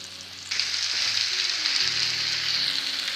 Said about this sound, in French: je mets les oignons à frire